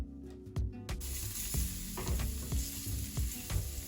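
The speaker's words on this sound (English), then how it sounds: "Now that the oil is hot, I'm going to be adding the chopped onions and garlic." Chopped onions and garlic tipped into hot oil for spaghetti bolognese, bursting into a bright close sizzle after a brief quiet start, with rhythmic stirring knocks throughout.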